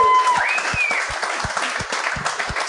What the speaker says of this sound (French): Fait que bravo, on devrait l'applaudir.